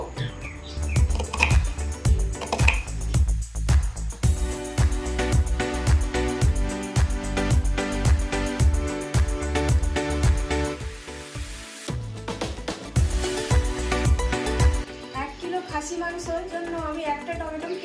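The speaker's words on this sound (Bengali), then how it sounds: "এবার আমি পেঁয়াজটাকে কুচি কুচি করে কেটে নেব" Onions finely chopped with a knife while preparing handi mutton, a fast run of crisp, rhythmic knife taps on a board, close and fairly loud, with brief pauses and some background noise.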